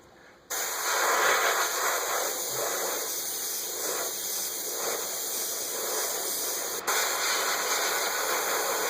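An airbrush sprays paint onto a bluegill skin mount, kicking in as a steady, close hiss that runs unbroken with a brief dip near the end.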